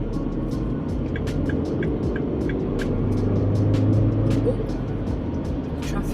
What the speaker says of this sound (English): Traffic's quite heavy this morning.